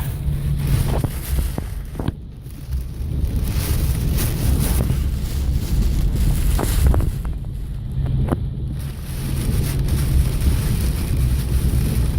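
Strong hurricane wind roars and buffets close to the microphone, with heavy rumbling gusts surging and easing over several seconds.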